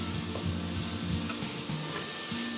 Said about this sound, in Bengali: আলু পটলটা দিয়েও একসাথে ভালো করে কষিয়ে